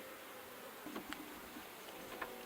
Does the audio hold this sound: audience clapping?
no